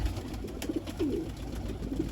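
A Lal Shooter breed pigeon coos softly a few times, short low murmuring calls close by over a faint steady background hum.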